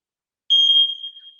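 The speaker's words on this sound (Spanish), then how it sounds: "Estas mismas tienen su alarma integrada, ¿sí? Que cuando detecta el incendio, pues nos lo activa" A smoke detector's built-in alarm sounds after a moment of silence, giving one loud, sustained high-pitched electronic tone that holds steady and then slowly fades.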